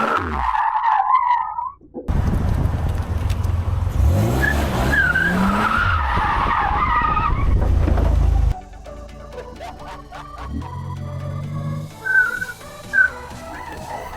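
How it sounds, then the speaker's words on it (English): A Buick Grand National turbo car oversteers through a U-turn, tires squealing and skidding loudly over engine noise before fading into quieter road sounds. "The severe oversteer did not help when I was goosing it during a U-turn."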